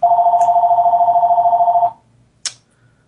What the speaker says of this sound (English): this phone call came at a bad time